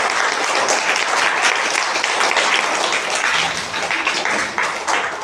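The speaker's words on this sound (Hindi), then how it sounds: "ताली बजा दीजिए।" Students at a government school quiz show clap for the contestants, a loud, continuous round of applause that runs for several seconds before easing slightly near the end.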